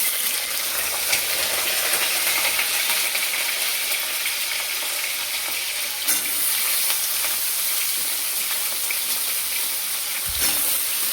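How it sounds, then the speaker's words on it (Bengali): Mixed vegetables fry in a pan with a constant, loud hiss of sizzling oil, close up and unbroken, with only faint clinks now and then. "এবার সবজিগুলো অ্যাড করে দেব।"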